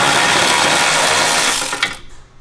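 A trigger-operated power tool whirs loudly and close on a Mazda NB Miata's suspension, a steady high buzzing burst lasting about two seconds before it winds down and cuts off.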